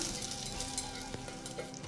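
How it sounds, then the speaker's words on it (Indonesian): Garlic sautéing in a little hot oil in a pan for a spinach soup, a soft, steady close sizzle with faint stirring scrapes and no talk. "Panaskan sedikit minyak, lalu tumis bawang putih."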